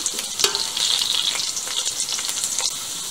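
Potato pieces frying in a pan of hot oil, a loud, dense, continuous sizzle with a few soft clicks of turning, close up and without speech.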